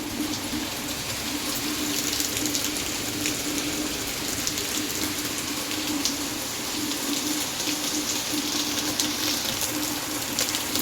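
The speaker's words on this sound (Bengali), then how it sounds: "দেখো বৃষ্টির পরিমাণটা কিন্তু আরও বেড়ে গেছে হঠাৎ করে" Steady heavy rain pours down in a constant dense hiss, with water splashing and running, unbroken throughout with no voices.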